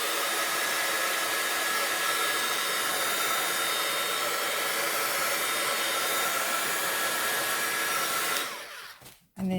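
Hair dryer blowing steadily on distress ink on a craft card, a loud continuous airy roar that runs alone for about eight and a half seconds and then cuts off abruptly.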